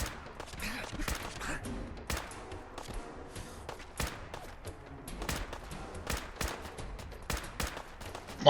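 Video game gunfire, a steady stream of sharp shots and short automatic bursts, some louder impacts standing out, mid-level and continuous with no voices.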